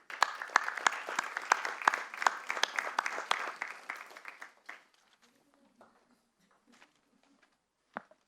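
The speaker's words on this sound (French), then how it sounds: "Et on peut les applaudir." Applause fills a town council meeting in July 2019, a dense roomful of clapping for about four and a half seconds before it tapers off into near silence, with a few faint knocks and one short sharp sound near the end.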